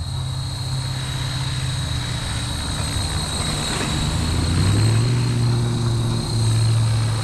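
A Blade Fusion 360 RC helicopter flies with a steady whirring rotor drone and a high electric whine. Its pitch wavers up and down as it maneuvers nearby.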